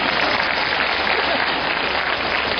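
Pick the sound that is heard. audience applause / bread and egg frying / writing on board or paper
audience applause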